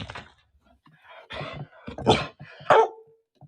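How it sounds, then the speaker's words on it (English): A large 70-pound dog zooms around inside a house, giving a few sharp barks and yelps of varying loudness, close by and alone. "So that's what 70 pounds of dog sounds like, zooming."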